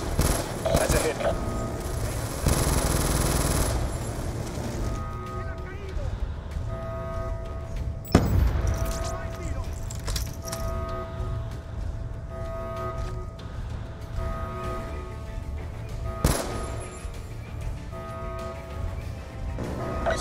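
Rapid bursts of automatic gunfire and scattered single shots in the Call of Duty Black Ops 2 shooter game, crackling steadily across the scene beneath radio-style voice callouts, with a couple of sharper louder impacts.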